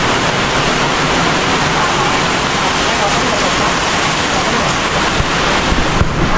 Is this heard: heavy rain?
yes